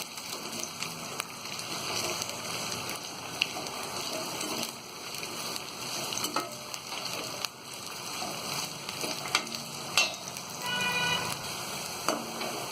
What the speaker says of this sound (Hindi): और गोभियों को हम अच्छी तरह फ्राई कर लेंगे।